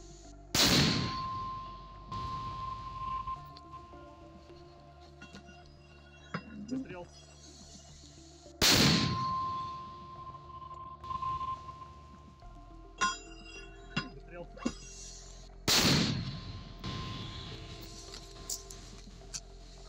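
A Russian mortar crew fires three sharp, heavy blasts spaced several seconds apart. Faint voices and clinks of handling are heard between the shots.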